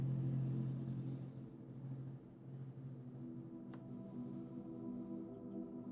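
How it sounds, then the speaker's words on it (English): A loud truck passes outside, a steady low engine rumble that swells and eases slightly across the few seconds, heard from indoors with no talking. "Loud truck outside."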